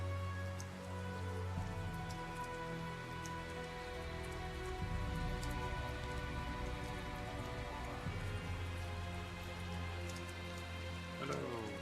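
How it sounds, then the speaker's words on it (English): Steady rain falls throughout a town scene in the video game Tales of Zestiria, a continuous hiss over a layered musical drone with no talk. "Must be all this rain we are having."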